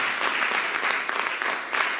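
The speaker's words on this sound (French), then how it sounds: "On peut acclamer le Seigneur pour vous-même." A church congregation applauding during a French-language service, a dense, steady burst of clapping close by with no voices over it.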